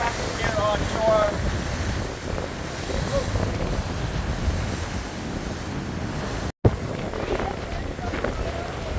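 High surf whipped up by Hurricane Idalia crashes on the shore near the St. Petersburg Pier, a constant heavy roar of waves mixed with strong wind buffeting the microphone, with a brief cut partway through.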